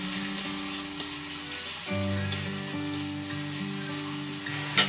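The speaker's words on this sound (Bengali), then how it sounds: "পেঁয়াজটা হালকা ভাজা ভাজা করে নেব প্রথমে।" Onion paste with whole cumin and dried chilli sizzles in mustard oil in a kadai, a continuous close hiss that swells after a stir, with soft background music.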